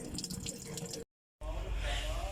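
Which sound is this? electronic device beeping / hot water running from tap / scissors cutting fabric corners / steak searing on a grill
hot water running from tap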